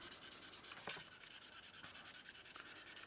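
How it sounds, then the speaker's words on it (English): Light sanding of glue marks on a plastic 1/32 Tamiya Vought F4U-1 Corsair Birdcage model kit with the mild side of a polishing stick, heard as steady rhythmic back-and-forth rubbing strokes, close and even, with no talk. "lightly sanding it with the very mild side of the polisher."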